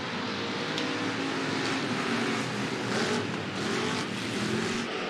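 Hobby stock race cars circling a dirt oval at Clay County Speedway, engines droning steadily at a distance with a broad, continuous roar and no close pass.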